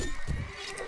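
Horses gallop in the video game Mount & Blade, giving a short, muffled burst of hoofbeats with a brief neigh-like tone in the game mix.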